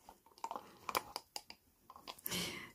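A dog gnaws on chew items indoors, giving scattered soft crunching and wet chewing bites in uneven bursts, quiet and close, with no talk.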